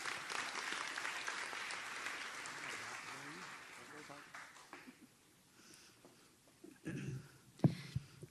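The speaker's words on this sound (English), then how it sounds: "Dr. Gunter, give her a round of applause." Applause at a nursing school convocation ceremony, clapping strongest at the start and fading away, with a few sharp knocks and a voice near the end.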